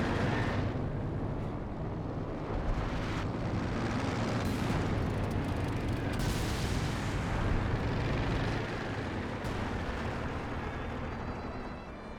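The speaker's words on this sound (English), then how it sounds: "When it comes to fragmentation bombing run, I think he's launched, dropped 4 of them." Fragmentation bombing run explosions in Company of Heroes 2, a continuous roar of overlapping blasts and rumbling detonations with sharper bangs scattered through, sustained and heavy for over ten seconds with no speech.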